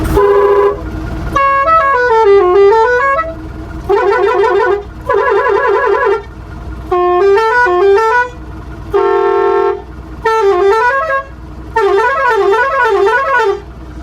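Custom musical horns fitted to a Mazda T3500 Coaster saloon bus blare loud, multi-tone melodic sequences in repeated bursts, with a steady compressor hum running underneath throughout.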